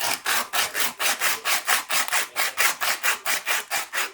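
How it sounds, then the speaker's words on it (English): Sandpaper scrubbing back and forth on the outside of a copper drain pipe, producing an even rhythmic rasp of about four strokes per second, close and steady with no talking. "You can use sandpaper the same way,"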